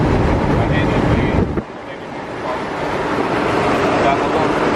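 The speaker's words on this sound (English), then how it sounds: "Super windy." Strong wind buffeting while driving a McLaren 650S, a loud, rushing broadband roar that drops briefly partway through and then swells back, steady and close.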